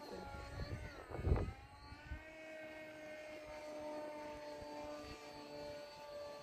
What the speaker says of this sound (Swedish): Och propellern den snurrar.